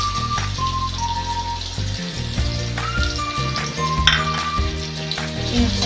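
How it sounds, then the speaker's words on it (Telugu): Onions and green chillies fry with cumin seeds in a pan for a chicken gravy masala curry, giving a steady close sizzle with occasional stirring scrapes and a faint tonal hum underneath. "కొంచెం బాగా ఫ్రై అయినంత వరకు ఉంచుకుందామండి ఆనియన్స్ని"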